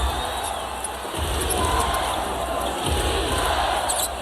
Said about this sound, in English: Crowds come alive a little bit.